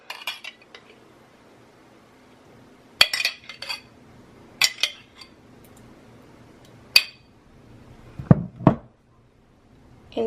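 Spaghetti sauce being spooned in a home kitchen, with sparse metal cutlery clinks and knocks against a pot or dish, each one separate and fairly quiet.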